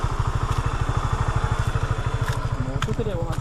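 A motorcycle engine putters steadily and close by with an even, rapid pulse, entering the grounds of the abandoned Mimaland theme park, while faint voices talk in the background.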